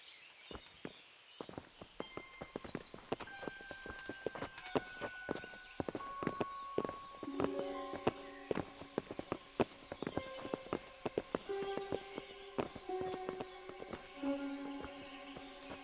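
Horses' hooves clip-clop steadily on hard ground in the video game Kingdom Come: Deliverance, a dense continuous rhythm of many hoofbeats with faint tonal game sounds behind them.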